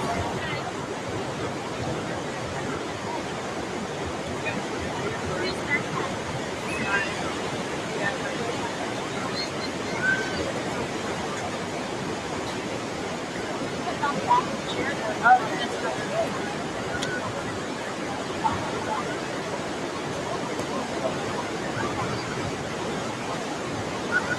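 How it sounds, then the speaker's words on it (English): Ocean surf washes steadily onto a Florida beach as the tide rolls in, a broad, continuous hiss of breaking water mixed with wind, with quiet voices over it. "And the tide's rolling in."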